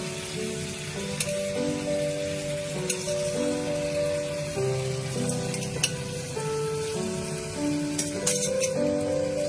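Paneer and rice layered into hot oil for a shahi paneer dum biriyani, sizzling and frying steadily throughout with occasional utensil clinks over background music.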